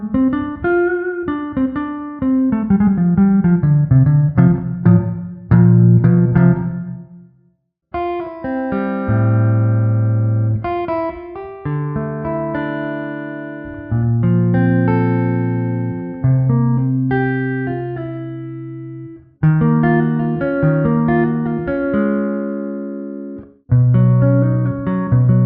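Shreddage 3 Hollomatic virtual electric guitar on the neck pickup with a Mellow Jazz preset: clean, warm melodic lines and ringing chords, played continuously with brief pauses, close and smooth, with no voices.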